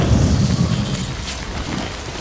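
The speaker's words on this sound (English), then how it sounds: "Good thing it was raining." Heavy rain falling in Death Stranding, a dense, continuous wash of drops with a low rumbling undertone, loud and steady throughout with no voices.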